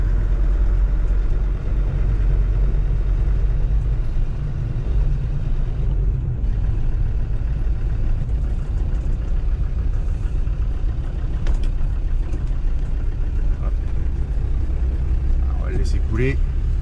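A Land Rover Defender Td5 diesel engine lugging at low rpm in third gear gives a loud, steady low rumble that holds throughout, with a voice talking over it.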